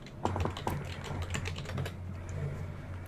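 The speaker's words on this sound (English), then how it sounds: "I'll type the name of the programs in the chat." Rapid clicking keystrokes on a computer keyboard, close and continuous, with no talking.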